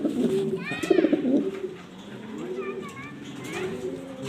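Black Danish pigeons coo in low, rolling phrases at close range, with a few higher chirps and whistles laid over them and faint background sounds now and then.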